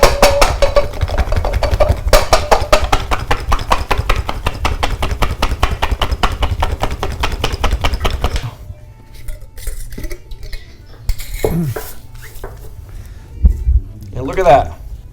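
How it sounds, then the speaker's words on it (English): Garlic cloves rattle hard in a lidded jar for about eight seconds, a loud rapid clatter with a steady rhythm. Then the shaking stops and people talk. "Put a lid on the jar, and then we're going to shake as hard as we can for about 10 seconds"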